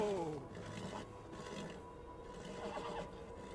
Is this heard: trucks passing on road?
no